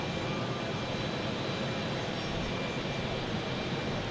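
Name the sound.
Embraer 175 jet airliner taking off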